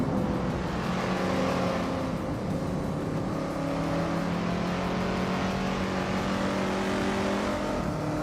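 Several race cars compete in a video game race, their engines holding a steady, layered whine with shifting pitch as cars overtake one another. The drone stays continuous and fairly loud, with no talking.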